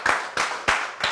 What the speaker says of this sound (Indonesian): tepuk tangan buat Henry Satrio